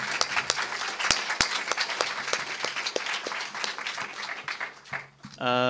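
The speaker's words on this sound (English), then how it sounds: "please give a warm round of applause for both of our guests, Nathalie and Loren." A live audience at a game showcase event applauds panel guests, a dense, steady wash of clapping with a few sharp close claps, fading near the end before a brief burst of noise.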